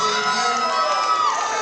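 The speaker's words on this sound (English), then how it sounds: "The crowd not too happy with that decision." Loud arena crowd at a kickboxing bout between Xavion Elkins and Brad Menefee, a dense wall of shouting, whooping and cheering voices reacting to the judges' decision, sustained and close with no clear talk.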